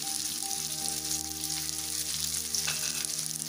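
Sliced onions, green chillies and curry leaves sautéing in oil for a banana-flower masala curry, a steady close sizzle and crackle with faint hum underneath, continuous and even throughout, no speech.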